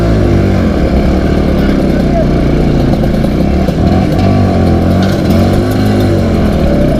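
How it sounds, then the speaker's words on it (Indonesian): A Vespa scooter engine runs loud and close at a steady drone, with motorcycle-like rumble throughout and no clear pitch change. "Oke, kita engine on dulu cuy. Semoga Vespa ini kuat aja."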